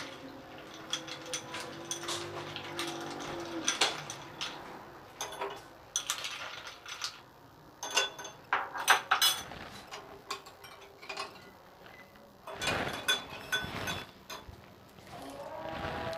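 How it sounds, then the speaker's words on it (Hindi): Ice cubes clinking and rattling as they are dropped into a glass of homemade falsa (phalsa berry) sharbat, a run of sharp irregular clinks and knocks up close, with quieter handling noises between bursts and no talk. "और फिर उसके बाद हमने जो है इसके अंदर आइस क्यूब्स डालनी है।"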